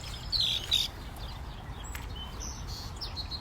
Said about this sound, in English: There's the red-winged blackbird again.